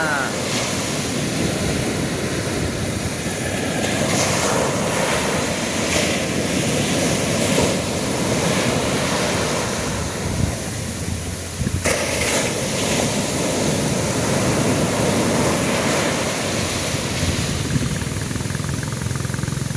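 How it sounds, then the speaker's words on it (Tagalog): Continuous roar of large sea waves and surf in rain, with a steady engine hum and wind buffeting the microphone throughout. "Malalaki ang alon."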